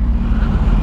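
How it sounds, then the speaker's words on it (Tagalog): Road traffic heard from a Kawasaki Z1000R ride, a dense, loud low rumble of passing vehicles and engines that stays steady through the whole brief moment. "Traffic."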